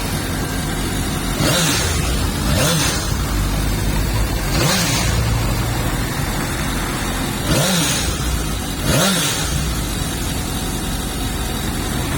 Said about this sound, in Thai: ฟังเสียงเครื่องยนต์คันนี้พร้อมๆกัน